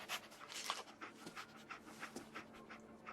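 Dogmeat, the dog in Fallout 4, pants in quick, rhythmic breaths close up, soft and steady throughout with a faint low hum behind.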